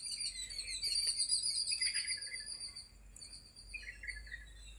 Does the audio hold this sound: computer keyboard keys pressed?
no